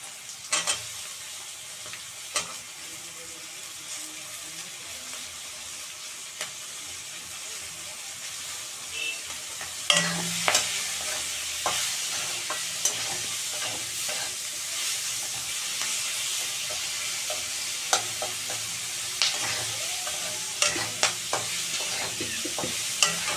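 Onions frying with tomato and chili for begun bharta sizzle steadily, growing louder and hissier partway through as the tomato and chili go in, with intermittent clacks of a spatula stirring.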